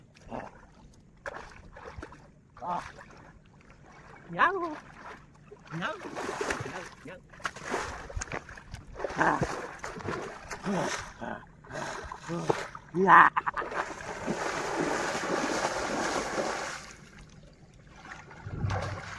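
Water splashes and sloshes as a man bathes outdoors in a cold river in Jharkhand, with uneven bursts of splashing mixed under steady talking.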